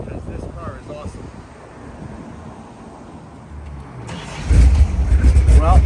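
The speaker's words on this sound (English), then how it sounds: "Well, there's our cold start" A cold 1956 Austin Healey 100M engine, left sitting outside for hours, cranks and catches near the end, its low rumble rising sharply over earlier wind noise and background speech.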